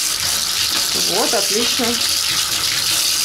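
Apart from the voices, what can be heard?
water running, filling a tank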